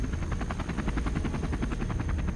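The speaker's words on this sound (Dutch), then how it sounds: "Ineens is er paniek in de jungle als de gijzelaars het geluid van een helikopter horen." Red Cross helicopter flying over jungle, its rotor chop pulsing rapidly and evenly, loud and steady with no voices.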